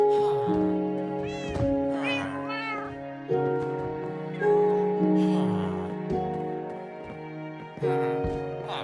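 A cat in Minecraft meows over and over, several clear, near cries spread through a backdrop of steady tonal game music, with no talking.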